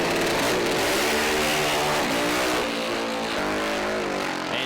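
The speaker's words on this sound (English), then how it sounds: "Corey Buttigieg now on the only Harley-Davidson powered bike in this field, and it has a completely different sound" A loud, roaring Harley-Davidson-powered drag racing motorcycle engine howls past at full throttle, its harmonic pitch sliding as it accelerates, with a deep, uneven exhaust note and no talking.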